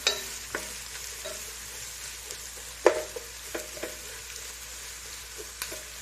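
Onions frying in a pan for dum biryani give a steady, close sizzle, with a few separate stirring scrapes and knocks spread through the stretch and no voices.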